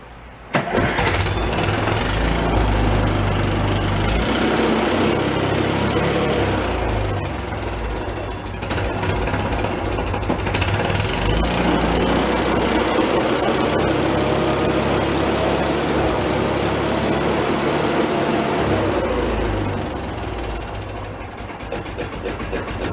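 New engine in a Beaver amphibious vehicle, started for the first time in 25 years, clattering into a loud, rough, continuous idle close by with brief dips in level.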